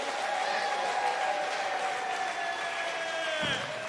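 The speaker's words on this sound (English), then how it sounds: "So get the clapping going, whooping and cheering." Comedy club audience at a poodle club fundraiser clapping, whooping and cheering as a comic is welcomed to the stage, a moderately faint continuous wash of applause with voices rising and shouting through it.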